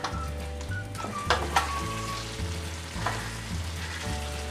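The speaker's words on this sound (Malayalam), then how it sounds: "കുരുമുളക് പൊടി എല്ലായിടത്തും മിക്സ് ചെയ്ത് കൊടുക്കാം." Kerala-style beef roast sizzles steadily in a pan while pepper powder is stirred through, a close, even frying hiss with scraping stir strokes and faint music underneath.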